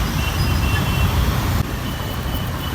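Road traffic in a jam at Aarey Colony, Mumbai, rumbles steadily nearby, a low continuous drone of idling and slow-moving vehicles.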